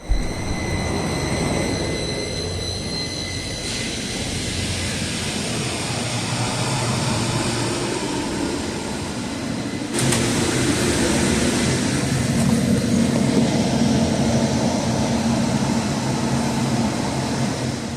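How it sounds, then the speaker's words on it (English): Riding a Hudson-Bergen Light Rail train from Hoboken Terminal brings a continuous loud rumble and hum from the railcar, with a tonal whine early on, a sharp shift around the midpoint and steady rolling noise after, with no voices. "let's get on the train."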